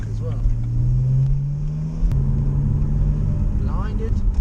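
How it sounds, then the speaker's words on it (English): A stock BMW 335i with the N54 engine drones steadily while driving, its low exhaust note rising slightly in pitch before easing off, close and prominent with a little cabin noise. "I can't get over the sound of this car, to be honest."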